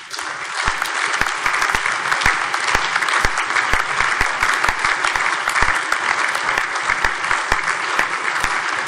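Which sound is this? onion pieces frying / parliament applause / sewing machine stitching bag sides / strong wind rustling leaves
parliament applause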